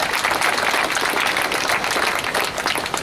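An audience claps for a young parliamentary candidate in South Yorkshire, a steady, moderately loud wash of applause that carries on without a break and with no speech over it.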